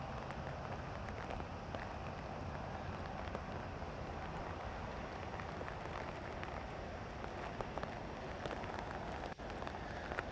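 Steady rain pattering down in gusty 15 mph wind on the Mississippi River, a dense continuous hiss with scattered sharper drops and no pauses throughout.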